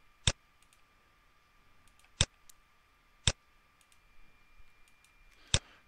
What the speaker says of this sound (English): I control click on each one that I need to do